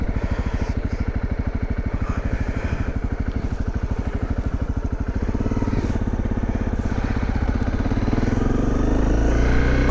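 Dirt bike ridden at night, a close single-cylinder engine putting out a rapid, even thumping that builds into a louder, rising rev as the bike speeds up.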